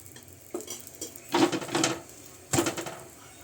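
A paratha roasts on a hot griddle, with faint sizzling under scraping and clattering from a spatula and utensils, and a few louder stirring and pressing bursts.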